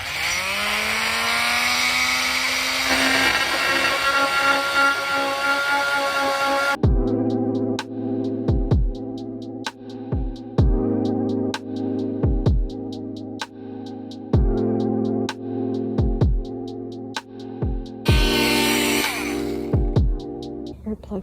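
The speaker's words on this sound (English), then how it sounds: "we're cutting this into smaller pieces, pressure treated wood." A corded power saw cuts pressure-treated wood clamped for trimming into smaller pieces: a long steady whine at first, then a series of sharp rhythmic blade strikes and rasps, loud and close.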